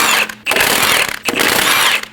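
Ratchet wrench with a 17mm socket loosening the lug studs on a 2012-2022 Volkswagen Passat front wheel, giving two loud bursts of rapid clicking separated by a short pause.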